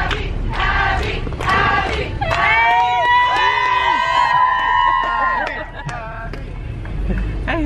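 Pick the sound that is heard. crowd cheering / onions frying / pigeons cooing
crowd cheering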